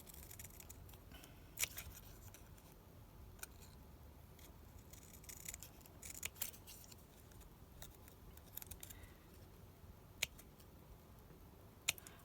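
Scissors snip through a nautical paper gift bag in scattered, quiet cuts, with sparse crisp snips over a soft background hush and no talking.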